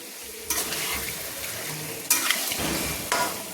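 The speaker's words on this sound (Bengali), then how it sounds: "ভালো করে আমি দই চিকেনটাকে আমি ভালো করে মশলার সঙ্গে আমি নেড়ে নিচ্ছি" Yogurt-marinated chicken stirred with spices in a pan over a low flame, a steady sizzle broken by three sharp scraping strokes of a spoon against the pan, close up with no talking.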